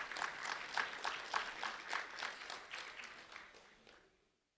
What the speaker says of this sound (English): A round of applause for Chandler